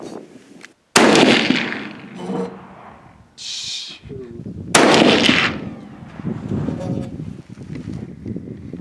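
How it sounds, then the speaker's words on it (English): Rifle shots fired at 50 yards outdoors at a hunting range: two sharp, loud reports a few seconds apart, each with a rumbling tail, amid wind noise and faint background activity. "My dad shot his rifle at 50 yards 4 times, I think."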